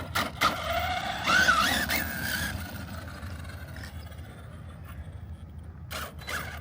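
Arrma Kraton and Losi Lasernut RC cars buzzing around outdoors, a whining electric motor rising and falling loudly at first then fading as the cars drive off, with brief bursts of tire and gravel noise.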